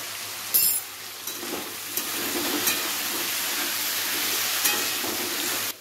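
Small cut potato pieces frying in oil in a pan with a light pinch of salt, a steady close hiss with a few sharper crackles near the start, continuous until the end.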